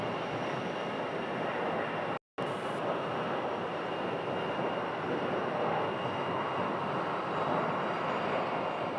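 An American Airlines A321 jet at Phoenix Sky Harbor rumbles as a steady, distant broadband engine roar, holding even apart from one brief dropout.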